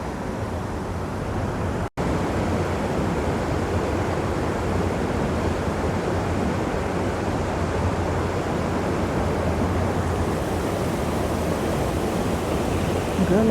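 A powerful waterfall at Devil's Bridge roars in a dense, unbroken rush of water, loud and close, with a brief dropout near the start.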